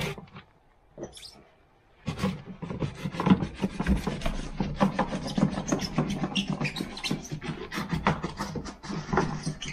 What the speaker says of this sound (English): I'm just going to get in there with the cloth and with the brush